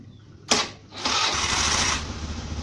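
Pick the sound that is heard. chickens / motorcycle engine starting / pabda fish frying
motorcycle engine starting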